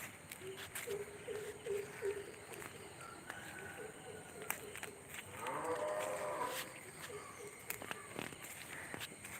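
A cow moos a few times at a distance while being led to graze in a field below a house, low drawn-out calls in a quiet outdoor setting with faint rustling and footsteps.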